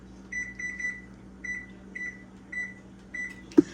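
An oven's control panel is set back to 350 degrees, producing a series of short electronic beeps in small groups, followed by a sharp click or knock at the end.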